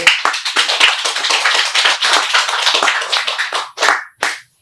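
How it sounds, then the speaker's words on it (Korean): An audience at a Buddhist Diamond Sutra lecture claps together in a loud, brisk burst of many hands, thinning to a few final scattered claps at the end. "이제 알았으면 박수 쳐요."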